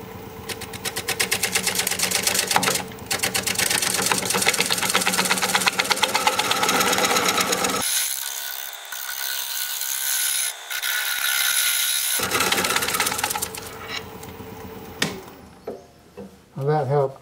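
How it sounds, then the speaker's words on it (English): Wooden bowl turning on a wood lathe with a shear-scraping tool, giving a steady grinding, rattling scrape for most of the span, a brief pause midway, then resuming with a few short voiced bits near the end. "I'm going to try shear scraping."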